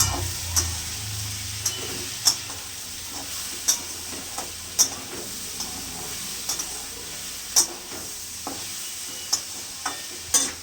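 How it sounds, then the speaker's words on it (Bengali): Mixed dal is stirred and sautéed in a pan with turmeric and sugar: a soft, continuous sizzle runs throughout, punctuated by regular sharp clicks of a spoon against the pan, close and alone without talk. "একটু হলুদ দিলাম, একটু চিনি দিলাম। কষিয়ে নেবো ভালো করে।"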